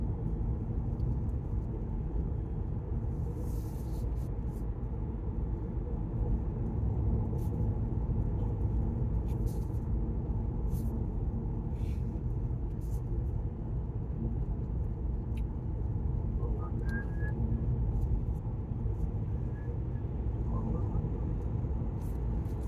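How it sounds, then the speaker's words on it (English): A small electric car with lithium batteries mounted low, cornering on a curvy road, giving a continuous broadband road and wind rumble with no engine note, steady throughout and without talk. "This little car corners real good."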